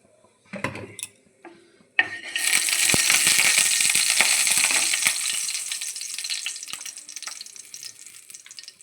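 A little oil going into a wok (kadai) for a pasta sauce, with a few clattery pan and utensil knocks first, then a loud continuous sizzle that slowly fades, no talking.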